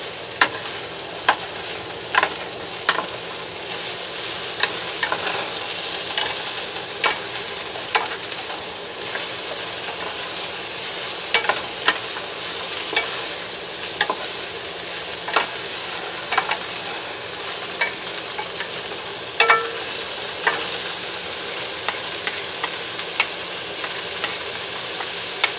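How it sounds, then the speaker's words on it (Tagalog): Bitter gourd (ampalaya) with beef and onions sizzling in a pan while a spatula stirs it, with steady frying hiss and repeated sharp scrapes and clacks against the pan at an uneven rhythm, close and clear. "Ating haluin."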